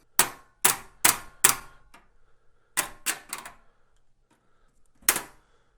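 Sharp clicks and clacks from unfastening a graphics card and unlocking its PCIe slot on an old workstation PC, in a quick cluster of four, then three more, then one last louder click after a pause, all close up with no talk.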